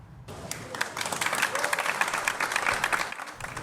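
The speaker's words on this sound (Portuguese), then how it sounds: "Aplausos, expressão humana de aprovação." Hospital staff in Fortaleza applaud a recovered Covid-19 patient on his way out, clapping that starts abruptly and builds into a lively, dense round from a group close by.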